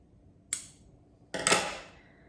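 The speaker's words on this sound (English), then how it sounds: "I'm gonna trim that with scissors" Scissors trimming craft material for a homemade Easter centrepiece: two quiet, sharp snips about a second apart, the second one fuller, with a faint room hush in between.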